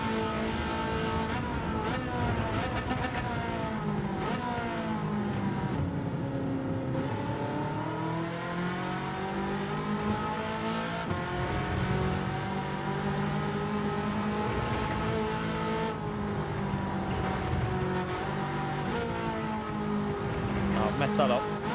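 A race car engine in Gran Turismo 7 drones and revs continuously, pitch rising and falling through gear changes and downshifts, with someone talking over it throughout.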